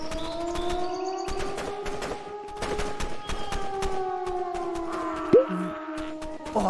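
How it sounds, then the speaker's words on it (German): Siren wailing inside the zombie train game Zompiercer, long rising and falling tones layered over steady game noise and scattered sharp bursts, fairly loud throughout. "Was ist das für ein Geräusch? Sirene?"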